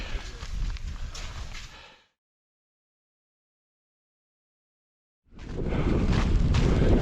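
Strong mountain wind buffets a microphone during a winter skills outing, loud and rough for two seconds, then a complete dropout to silence before the gusty roar returns even harder.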